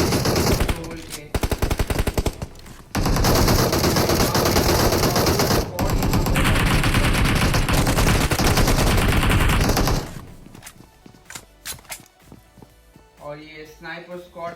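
Dense bursts of automatic gunfire and rapid shots fill a battle royale video game fight. They are loud and sustained, with brief gaps, and thin out near the end as other game sounds take over.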